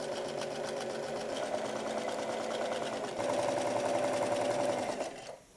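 A sewing machine stitches over the edge of a slacks pocket, a close, steady rapid whir that shifts pitch slightly partway through before winding down at the end.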